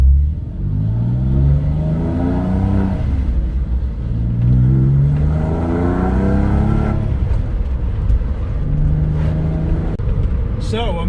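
Porsche 911 engine pulling hard through the gears, rising revs repeating in several sweeps with gear changes between, close and loud, with a voice talking over part of it.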